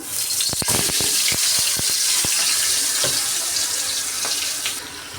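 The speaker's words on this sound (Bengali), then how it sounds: "তেলটা গরম হয়ে গেছে এখন আমি মাছ দিয়ে দেব" Boal fish frying in hot oil with ground spice paste, a loud dense sizzle with sharp crackling pops early on, easing gradually toward the end.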